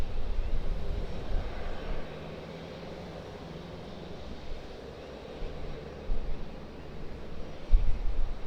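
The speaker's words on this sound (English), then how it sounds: "Airbus A320 of Jetstar Airways overhead." Jetstar Airways Airbus A320 jet passing overhead near Sydney Airport, a steady broad engine roar with a low rumble that swells and fades slightly, moderately distant, with wind buffeting in the background.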